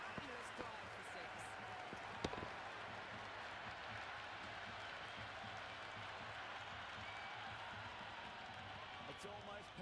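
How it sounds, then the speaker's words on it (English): Stadium crowd in the video game Cricket 26 cheers steadily after a batter hits a six, a broad sustained roar with scattered claps and one sharp knock, under commentary talk. "It's almost palpable, the excitement emanating from this crowd at the moment."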